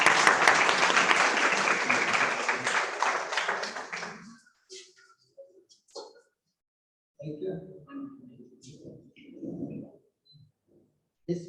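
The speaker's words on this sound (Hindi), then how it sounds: "जोरदार तालियों के साथ स्वागत किया।" Applause at a farewell ceremony welcoming a guest, loud and dense for about four seconds, then fading into scattered claps and quiet room noise with faint voices.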